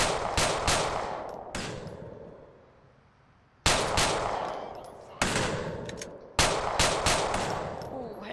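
Repeated bursts of automatic gunfire in GTA IV, clusters of rapid close shots separated by brief echoing pauses, loud and punchy with reverberant tails.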